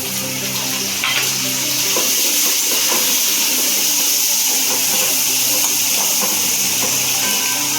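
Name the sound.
tomatoes added to frying onions in a pan, sizzling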